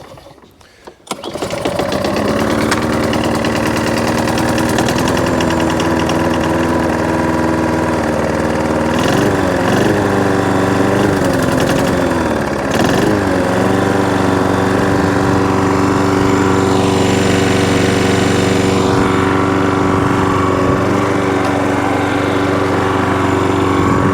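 A Hayter 41 lawnmower's petrol engine starts on choke after repair and runs steadily and loudly close by, its rough droning note wavering a few times midway before settling into a constant run, with no talk.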